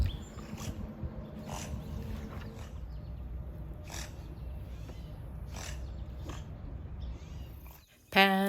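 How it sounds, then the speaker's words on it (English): A river otter gives a series of short, sharp snorts spaced at irregular intervals against a low rumbling outdoor background, with a louder burst at the end. "Listen to these snorts."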